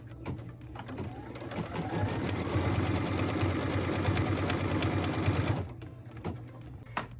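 A sewing machine runs fast and close for several seconds, stitching a tack-down line on a quilt piece, with a rapid even needle rhythm that starts and stops cleanly.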